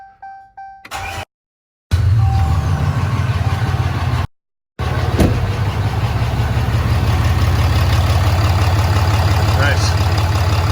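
A 2018 Ram Cummins diesel with a throttle valve delete cold-starts after a few clicks, then clatters into a loud, close, steady idle, briefly cut by a gap, with voices faintly over it.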